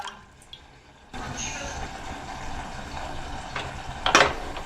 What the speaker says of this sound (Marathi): त्यामध्ये 1 ग्लास पाणी घालत आहे